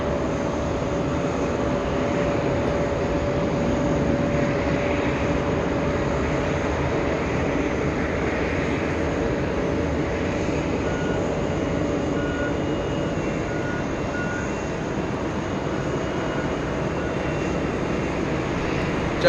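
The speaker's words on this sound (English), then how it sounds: "Emirates from Milan touches down at 7 p.m." Emirates airliner from Milan landing at JFK, a steady broad roar of jet engines holding constant throughout, moderately loud and somewhat distant, with no voices.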